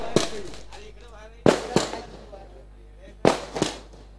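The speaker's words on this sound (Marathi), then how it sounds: "फटाक्यांची मैदानाच्या चारी बाजूला आतमबाजी इथे मात्र पाहायला मिळते" Firecrackers burst around a cricket ground during a tournament final celebration: five sharp, loud cracks in quick pairs, each followed by a fading echo, with a voice faintly behind them.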